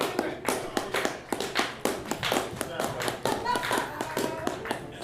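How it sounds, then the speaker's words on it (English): Single heavy hand claps from one person, sharp repeated thumps at an uneven rhythm, fairly close, with chatter and voices running underneath. "You can only hear TJ's very heavy hands back there. Only like one clap."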